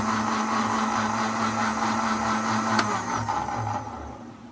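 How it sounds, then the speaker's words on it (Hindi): Countertop blender running steadily, mixing milk with baked cake crumbs for a healthy khoya badam kulfi; a continuous close motor whir with a strong steady hum, no voices, tapering slightly near the end. "दूध और केक क्रम्स को मिक्स किया, ब्लेंड किया मैंने"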